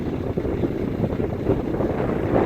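Strong gusty wind in the aftermath of Hurricane Irma in Cape Coral buffets the microphone with a steady, loud rumbling roar and no letup.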